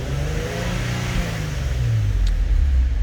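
Nissan VQ engine running an ethanol blend of about E17 to E18 and revving up, a close, loud rising whine that climbs and holds with no talking.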